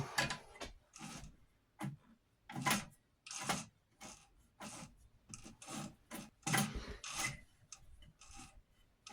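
An Amarko Model 950-B sewing machine, stiff from disuse, is worked by hand so its needle rises and falls, giving a series of rasping, rubbing mechanical strokes in an uneven rhythm, close and fairly quiet.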